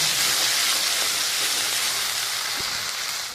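Spice paste with chili powder fries in a pan for a Bengali bata fish curry, making a steady, loud, close sizzling hiss that holds throughout and eases slightly at the very end.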